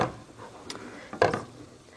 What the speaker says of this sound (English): Just stir it down